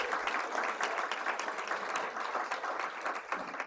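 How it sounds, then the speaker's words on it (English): Applause from a crowd of DC residents at a mayoral election-victory event, a steady, dense wash of clapping sustained throughout with no talk over it. "Give them a big round of applause."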